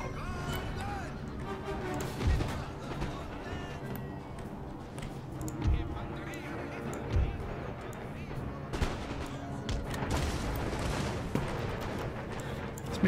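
Frontiersmen firing musket volleys in Empire Total War on a ridge battle, sharp cracks at intervals under a dense, continuous din of battle with talk running throughout.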